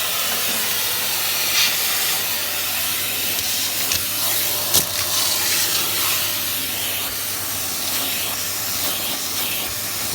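A Dyson CY28 canister vacuum cleaner runs with a steady, loud hiss and roar while sucking up broken Christmas ornament pieces, with a few brief rattling clicks of debris passing through the hose.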